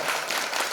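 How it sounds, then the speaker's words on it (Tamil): A crowd applauds at a Navaratri puja festival at a Kali temple, a short, dense burst of steady clapping heard up close. "கரகோஷப்படி கேட்டுக்கிறோம்"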